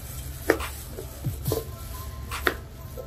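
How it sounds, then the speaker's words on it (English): Vegetables are chopped in a Tupperware vegetable chopper, giving a few quiet, sparse clicks and thuds in a calm indoor space with no talking. "this is used for chopping vegetables and fruits"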